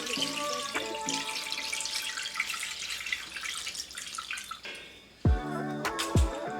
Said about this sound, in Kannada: ಈಗ ಇದಕ್ಕೆ ನಾನು ನಾರ್ಮಲ್ ವಾಟರ್ನ ಹಾಕೋತಾ ಇದ್ದೀನಿ.